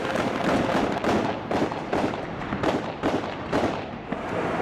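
Heavy weapons firing during combat in Mosul, a rapid run of loud, broadband blasts about every half second, dense and continuous with no talk over it.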